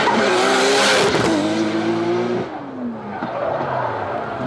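A Nissan GT-R on a demo run at a motorsport event roars close by, its engine revving and shifting through rising and falling tones, with tire squeal and skidding, then easing off as the car moves away.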